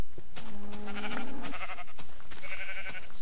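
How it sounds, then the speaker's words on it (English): Minecraft sheep bleating in a swamp, several wavering nasal bleats in quick succession over a steady low background, loud and close with no talk. "Sheep."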